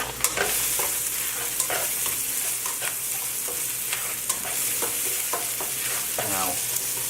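Onions and garlic sauté in a pan, giving a constant close sizzle with repeated scrapes and taps of a spatula stirring them.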